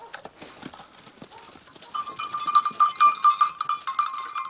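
Eight goats on a Mallorcan farm coming when called, hooves clattering on the ground and small bells jingling as they approach, growing louder and busier in the second half.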